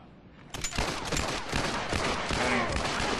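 Rapid 9mm pistol fire in the video game The Last of Us multiplayer, a burst of loud, closely spaced shots starting about half a second in and continuing in quick succession.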